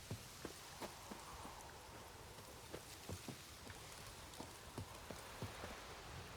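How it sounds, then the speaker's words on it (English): Rain falls steadily in the video game The Witcher 3, a soft continuous patter with faint scattered drop taps and occasional clip-clopping hooves. "Oh, and it's going to get rained on."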